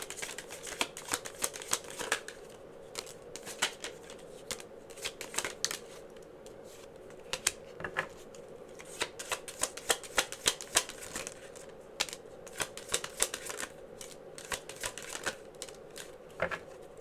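Message cards for a card reading being shuffled, giving a long series of soft, close, irregular slaps and flicks over a faint steady hum, with no talking.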